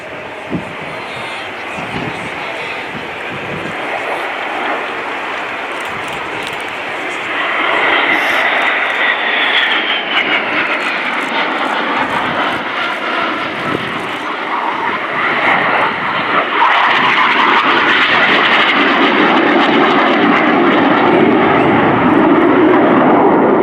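A BAE Hawk T2 jet thunders through a two-ship flying display at an airshow, its engine roar continuous and broad, swelling louder as the aircraft manoeuvres nearer, with faint crowd noise beneath.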